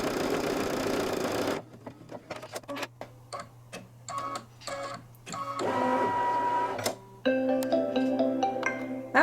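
An embroidery machine stitches a blanket stitch around an appliqué leg, its needle chattering loudly in fast bursts broken by short pauses and shifts in rhythm, with no talking.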